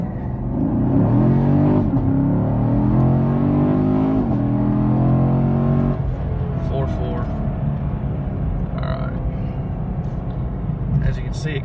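A 2017 Camaro SS in track mode, without launch control, accelerates hard from a standstill, its engine note climbing loudly through the gears before easing off, while a person talks over it.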